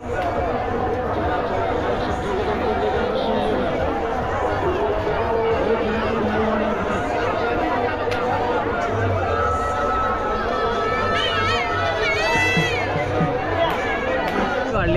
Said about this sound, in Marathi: जत्रेत गर्दी आता वाढलेली आहे.